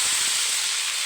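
A paste of ground ginger, garlic and cumin hits hot fried onions in the pan, giving a loud, steady, close hiss of sizzling that holds evenly throughout with no voices.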